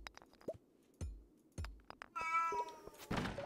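A cat meows repeatedly in short, close calls, mixed with a few soft thumps and knocks and one longer drawn-out cry near the end, with no voices.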